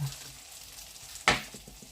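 Eggplants with minced meat fry in a pan with a steady, soft sizzle, broken midway by a sharp stirring clatter before the crackle settles back.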